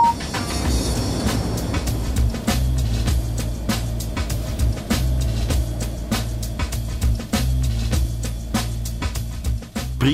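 A train rumbles at speed into the west bore of the Lötschberg Base Tunnel with a low droning roar and rhythmic clacks of wheels over rail joints, sounding enclosed and close.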